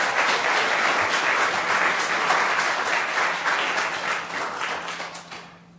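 A crowd at a City of Florissant council meeting breaks into loud, sustained applause, many hands clapping in a dense roar that holds for several seconds and then fades away at the end.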